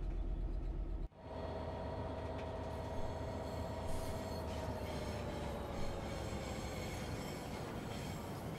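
A British Rail class locomotive in Train Sim World 3 runs along the Southeastern Highspeed line cleaning the rails: a steady, loud rolling rumble with a long, drawn-out wheel squeal that fades slowly, with no voices.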